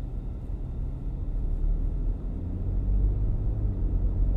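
A 2024 Volkswagen Touareg driving, a low steady engine and exhaust rumble heard from inside the cabin, building slightly in the second half, muted and continuous with no talking.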